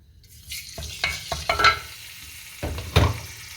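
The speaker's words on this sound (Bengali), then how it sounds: "তারপরে একটু তেল, তার উপরে একটু আদা রসুন বাটা" Ginger garlic paste frying in a little oil in a wok over medium heat, a steady close sizzle broken by several sharp scraping stirs, with no voices.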